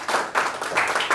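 A church congregation claps and cheers for Jesus, a short burst of dense, lively applause in rolling waves filling the room.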